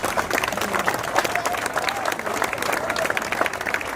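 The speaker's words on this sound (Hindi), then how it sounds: "जोरदार ताली बजाकर उनका खड़े होकर" Dense, sustained applause from a seated crowd honoring the chief guests, a judge and sports officials, at a box cricket tournament opening day, loud and continuous with no gaps.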